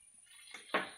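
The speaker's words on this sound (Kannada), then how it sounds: "ನೀರು ಹಾಕ್ಕೊಳ್ಳೋಣ" A short splash of water poured into a metal pan, preceded by a faint clink, close and brief.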